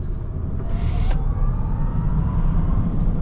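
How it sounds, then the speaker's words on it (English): Tesla Cybertruck accelerating, a loud, steady electric-motor drone and road rumble heard from inside the cabin, with a faint rising whine and a brief hiss partway through. "let's listen to that sound again on the acceleration"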